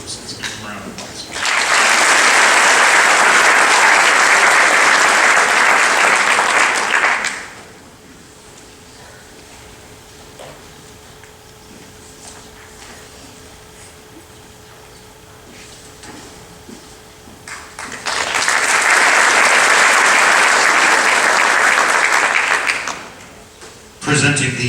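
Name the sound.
audience applause for scholarship winners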